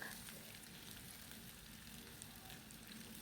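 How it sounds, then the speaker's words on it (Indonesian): Faint, even sizzling and crackling of tempeh fritters frying in hot oil in a small wok, continuous and close, with no talking. "Dimasukkan dalam minyak."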